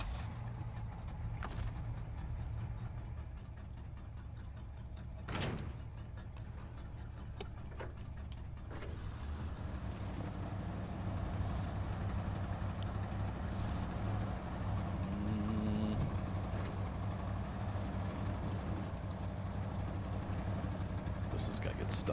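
A truck engine in mud grinds and revs through SnowRunner, a continuous low rumble that swells and strains, broken by a few sharp clicks and thuds, with no clear voices.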